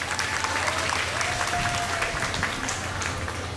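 An audience at a Korean belly dance contest applauds as guests are introduced, a steady, full round of clapping from a sizable crowd with a faint sustained tone beneath it.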